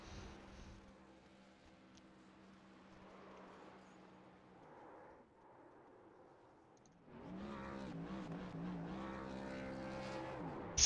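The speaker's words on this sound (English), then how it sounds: "Everybody goes and does burnouts on the front stretch with the champ." Race trucks doing burnouts on the front stretch after a championship in a racing video game, engine drone faint at first, then louder revving and roaring from several trucks near the end.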